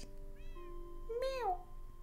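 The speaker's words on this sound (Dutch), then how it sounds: "Ik heb een poes." A cat meows in the Minecraft video game, one short rising-and-falling meow near the middle with a softer chirp just before it, close and clear over a quiet steady background.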